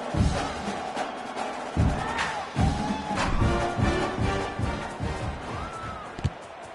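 A stadium crowd in the NCAA 26 college football video game roars and cheers before a kickoff, a dense, sustained wash of noise rising and falling with scattered thumps and shouts, loud and enveloping throughout.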